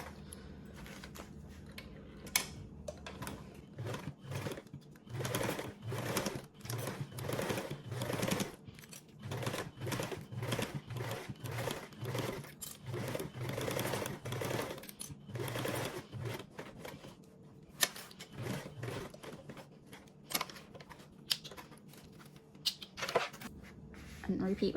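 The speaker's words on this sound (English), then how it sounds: "now we can go ahead and top stitch with a 1/8 seam allowance" A home sewing machine topstitches with a 1/8 inch seam allowance on a bag pocket, its quick needle chatter coming in close bursts of varying length with brief pauses between runs, while a voice talks quietly alongside.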